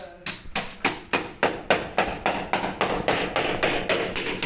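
Rapid, steady hammer blows strike a very hard wall to break a hole through it, about three or four per second, loud and close, with no talking.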